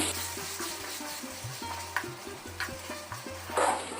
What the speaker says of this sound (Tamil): நம்ம எடுத்துக்கிட்ட நாட்டு சக்கரையை மாங்காய் பச்சடி கூட நல்லா கலந்து விட்டுருவோம்